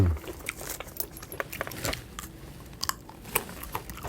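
Crunchy lotus pod seeds chewed up close: irregular crisp bites and crunches over soft mouth noises, with no talking.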